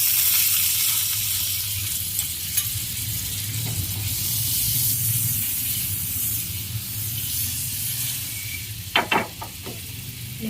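White oil and butter sizzle steadily on a hot tawa griddle, a continuous loud hiss and crackle that runs throughout, with a few short clinks and scrapes near the end.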